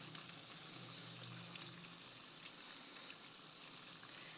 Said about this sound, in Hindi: अभी हम इनको अपने हाल पे फ्राई होने देंगे